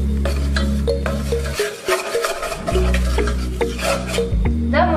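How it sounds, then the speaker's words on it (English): Matar pulao ingredients being stirred in a pot, with repeated scraping and rubbing strokes of a utensil close by. "I'm going to stir all inside."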